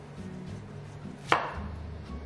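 A knife cuts through onion with a single sharp, close chop against a cutting board. A low background hum sits underneath, and no one speaks.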